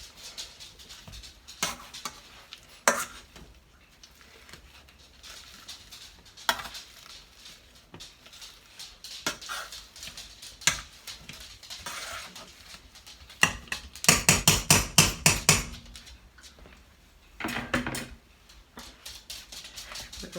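Potatoes mashed by hand with a masher in a pot, with irregular soft thumps and scrapes and a denser flurry of rhythmic mashing strokes in the middle, close and fairly quiet, with no talking.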